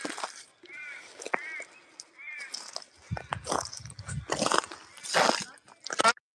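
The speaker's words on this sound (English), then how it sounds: "I love hearing the birds." Birds calling outdoors in a cemetery in short chirping phrases, with people talking nearby and some rustling.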